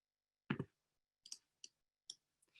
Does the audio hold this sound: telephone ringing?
no